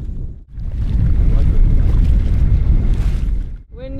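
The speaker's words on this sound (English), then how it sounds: "Wind is picking up a little bit." Strong wind buffets the microphone in a continuous roar aboard a big, heavy sailboat moving at about 3 knots, briefly dropping off twice, with a short voice at the very end.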